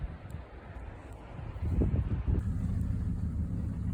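Strong wind gusting across an exposed mountain peak, a low rumbling roar buffeting the microphone that swells louder partway through and stays heavy, with no voices.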